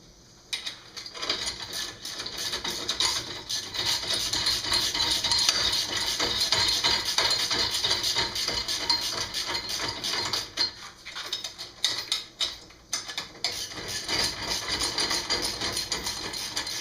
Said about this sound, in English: Finish tightening all 4 of these bolts up.